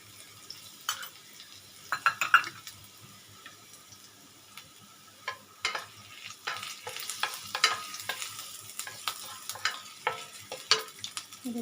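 Garlic and ginger sizzling in hot oil in a pan for a gravy, with scattered scraping and stirring strokes of a utensil, close and fairly quiet, no voices.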